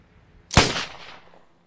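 A single loud gunshot in the survival video game Survive the Nights, fired at a fox, cracks sharply and then trails off in a fading tail, with no voices over it.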